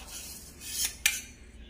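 A metal spoon stirs boiled potatoes into pressure-cooked mutton in a pot, making soft scraping rubs and one brighter clink against the pot side, fairly quiet and close.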